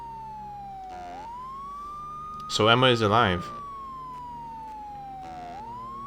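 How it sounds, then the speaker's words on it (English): A police siren sound effect is resampled into the music of the PlayStation game Mizzurna Falls. A steady wailing tone slowly rises and falls, and someone briefly talks over it partway through. "You can hear the siren being reused in the music again."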